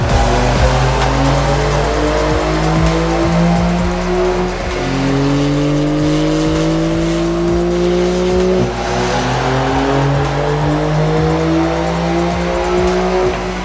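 A Porsche 992 Carrera running a COBB tune roars on a dyno, the engine revving hard and climbing through repeated rising sweeps, loud, close and continuous with no pauses.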